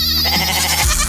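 Goats bleating on the road to Balos beach in Crete, a loud, close, wavering cry filling the whole moment with no talk over it.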